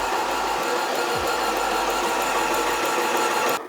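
Steady mechanical hum and rattle of an airless plaster sprayer pump running on slow prime at low pressure while being cleaned, loud and continuous, cutting off abruptly near the end.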